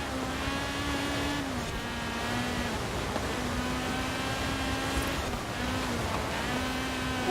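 A 2004 Honda Civic in Forza Horizon 4 drives on a snowy winter course, its engine droning steadily throughout with slight pitch rises and dips as it works through turns, with no speech heard.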